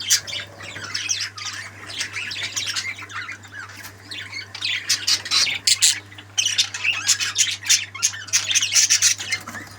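Harsh, repeated parrot squawks and chirps come in dense bursts, fairly close, over a steady low electrical hum.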